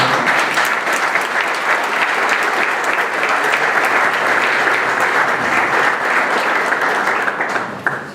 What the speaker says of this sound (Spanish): Démosle un cordial aplauso, por favor.